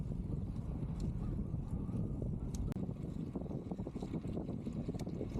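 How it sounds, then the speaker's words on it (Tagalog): Strong wind at the Hudayriyat cycle track buffets the microphone during an outdoor bike ride, a continuous loud, rough low rumble with gusty flutter throughout. "Sobrang lakas ng hangin."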